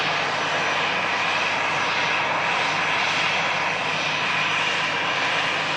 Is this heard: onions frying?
no